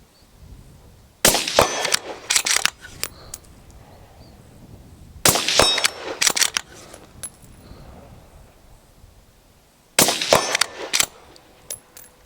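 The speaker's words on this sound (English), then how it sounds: "So you've seen me out shooting the rifle" A CZ 600 American rifle in .223 with a 24-inch barrel fires in three separate loud, sharp bursts spaced a few seconds apart, each followed by a clattering tail of smaller cracks and echoes, with quiet between.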